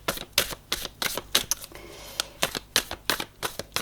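Tarot cards being drawn and shuffled, a run of crisp, rapid slapping and flicking strokes close up, with a brief softer sliding pause in the middle before the quick card snaps resume.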